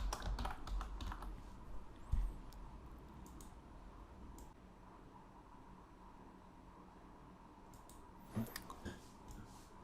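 Quiet, close tapping on a computer keyboard as city names are entered, in irregular bursts of keystrokes over a faint steady hiss, with a few louder clicks near the end.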